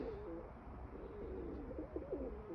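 Pigeons coo steadily in an open-air coop, several low rolling calls overlapping in a continuous murmur at close range.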